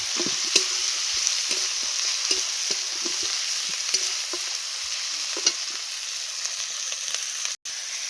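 Turmeric and chili powder sizzle in oil in a pan, a steady crackling hiss broken by regular scraping strokes of a spoon stirring the spices, close and alone.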